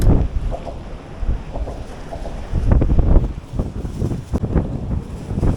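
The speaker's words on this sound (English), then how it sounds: "the wind really picked up since I've been here" Strong coastal wind buffeting a microphone during fishing off Melbourne, Florida, a loud, gusty low roar that rises and falls in uneven surges, with no speech.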